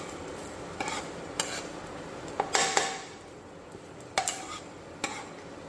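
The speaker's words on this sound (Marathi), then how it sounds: "आता आपण धने भाजून घेऊयात।" Coriander seeds dry-roasting in a pan, stirred now and then with a few sharp scraping clicks over a faint, quiet background, close by with no voices.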